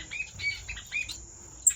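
Caged finches in a bird room give a few quick, thin chirps in short bursts, fairly faint and close, followed by a single sharp high peep near the end.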